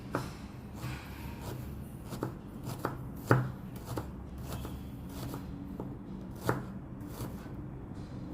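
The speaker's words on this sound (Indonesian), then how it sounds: "Ini kita iris tipis-tipis" A knife slices vegetables thinly on a cutting board for stir-fried bean sprouts, a steady series of crisp, evenly spaced chopping taps, close and moderately loud over a faint kitchen background, with no talking.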